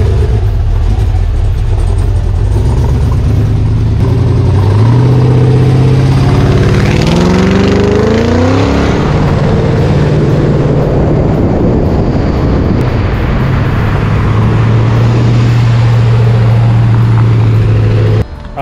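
A car engine built for the street revs hard and close up, its pitch climbing in sweeps and then dropping as the transmission shifts gears, with a loud steady drone in between.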